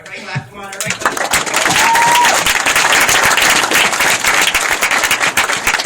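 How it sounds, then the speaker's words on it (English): A crowd at a Vemma business training event claps loudly and steadily after a brief lead-in, a dense roar of many hands that swells and holds strong throughout. "Everybody clap, come on, everybody clap."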